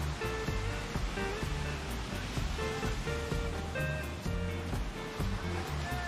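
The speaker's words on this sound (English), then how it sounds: "We're at the beach." Ocean waves break and wash steadily onto a beach, a continuous loud surf roar with rolling surges and no speech over it.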